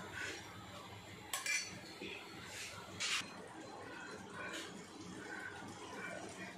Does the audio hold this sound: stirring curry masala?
yes